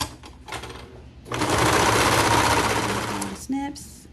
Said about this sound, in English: I'm just going to serge this shut